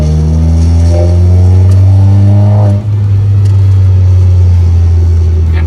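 A VW Scirocco 1.4 in drive kicks down and accelerates, its engine rising in a loud, steady roar with climbing harmonics that briefly dip as it shifts, then continue strong.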